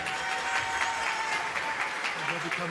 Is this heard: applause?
yes